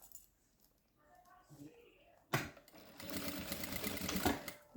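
A sewing machine runs a straight stitch through a milk carton, starting abruptly after a quiet stretch of speech and then rattling steadily and loudly for a couple of seconds.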